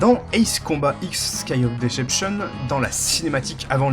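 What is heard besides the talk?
No distinct noise like a dog, phone or traffic.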